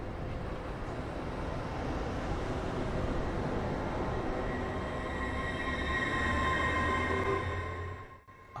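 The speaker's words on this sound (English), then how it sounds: "train 4 Echo 98 approaches from the north" A passenger train draws in from the north at Alnmouth station on the East Coast line, a broad steady rumble growing louder with rising wheel and motor tones, then cutting off abruptly near the end.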